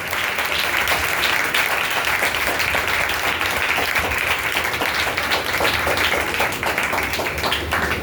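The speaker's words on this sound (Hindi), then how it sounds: "सब जोरदार तालियां बजाएं।" A church congregation claps loudly together in sustained, dense applause for a pastor's sermon, steady and close throughout with no pauses or talking.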